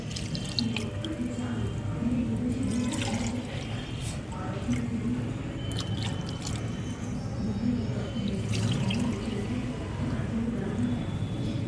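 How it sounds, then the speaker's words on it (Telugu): Coconut milk pours and splashes steadily into a pot, a continuous wet trickle with occasional drips, fairly close. "ఇప్పుడు కొబ్బరి పాలు వేసుకుంటున్నాం"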